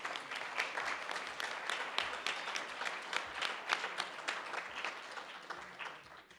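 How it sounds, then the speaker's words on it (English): Audience applause after a talk on Indigenous voices, dense steady clapping held at moderate distance for several seconds, slightly thinning toward the end, with no speech over it. "let's give them a round of applause"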